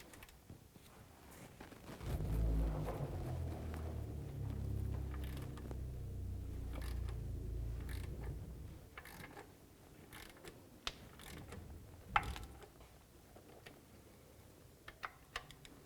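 Socket wrench loosening 18mm bolts on a steel differential bracket of a 2009-2018 Ram 1500, a quiet steady ratcheting whir followed by scattered faint clicks and clanks.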